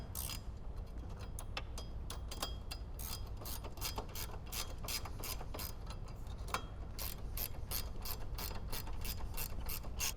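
Rapid ratchet wrench clicking steadily while tightening bolts on heavy-duty front light mounts on a Jeep Wrangler JK, a continuous close run of sharp metallic clicks with no talk.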